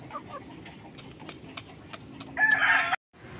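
A native jungle fowl (labuyo) hen calls before laying an egg: soft, scattered clucks over faint background noise, ending in a louder, drawn-out call that stops abruptly.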